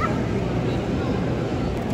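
Siberian Huskies in the ring at an all-breed championship dog show give short barks and yips, blurred into a steady wash of crowd noise and chatter.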